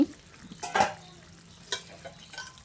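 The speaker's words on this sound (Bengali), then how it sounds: "খুব ভালো করে মিশিয়ে নিয়ে এবার আমি একটা ঢাকনা লাগিয়ে মিডিয়াম ফ্লেমে 15 মিনিট মতো রান্না করে নেব" Mutton biryani with potatoes being stirred in a pot: a few scraping, clattering stir strokes with a soft sizzle, close and moderately loud, no voices.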